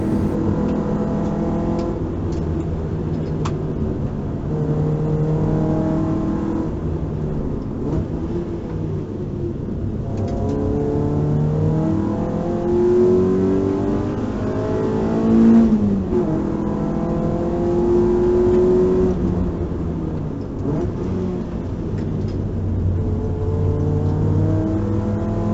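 A rear-wheel drive car on semi-slick tyres laps the Taupo race track at a steady pace, its engine droning continuously from inside the cockpit and rising and falling through gear changes.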